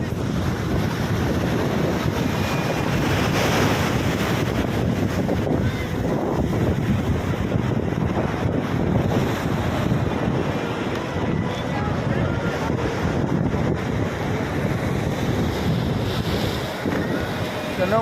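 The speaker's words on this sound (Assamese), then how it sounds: "সাগৰৰ ঢৌ কেনেকুৱা" Sea waves at Digha beach crash and churn in a loud, continuous roar, with heavy wind buffeting the microphone and voices faintly mixed in.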